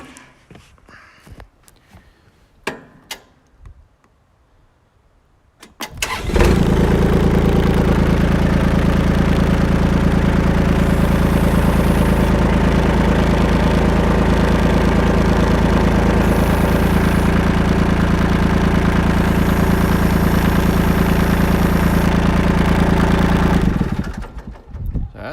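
A Kubota L2501 compact tractor diesel engine cranks briefly amid a few clicks and knocks, then catches around six seconds and settles into a loud, steady idle that runs evenly for nearly twenty seconds before cutting off near the end.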